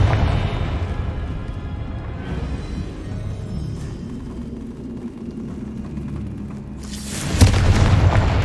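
A Confringo blasting spell goes off in Hogwarts Legacy, a deep, loud booming rumble that rolls on for several seconds before a second bright, crackling blast erupts near the end.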